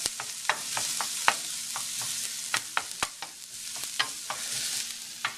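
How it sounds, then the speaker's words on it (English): Broccoli stumps fry in butter over medium-high heat, giving a steady close sizzle broken by scattered sharp clicks and scrapes of stirring, with no talk. "just cooking over a medium-high heat in butter"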